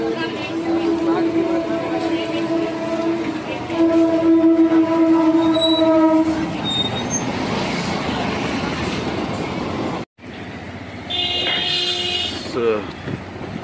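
A train rumbles past with a long, loud horn blast near the start, the clatter of wagons continuing afterward; voices are faintly audible in the background.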